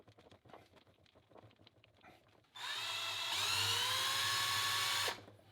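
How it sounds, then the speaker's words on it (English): A power drill boring small screw holes into a Warmoth custom guitar neck for the tuners, preceded by light handling taps, then a loud steady whirring drill run of about two and a half seconds that stops abruptly. "drilling small holes here for the small screws on the back"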